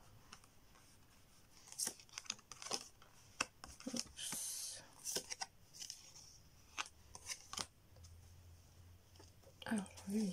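Tarot cards are dealt and laid out on a table in a series of close, crisp slaps and sliding clicks, with soft, low-level sounds between them.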